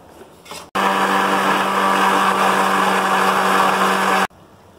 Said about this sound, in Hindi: इन सारे अज्जा को हमें ब्लेंड करना है, इसलिए हम इनको सबको जग में डाल लेंगे।